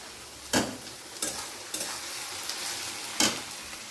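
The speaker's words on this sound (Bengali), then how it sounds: "এখানে মাংসের মশলা কষা হচ্ছে" Meat spice paste sautéing in a pan with a continuous soft sizzle, broken by four or five scraping stir strokes at irregular intervals, close and fairly loud.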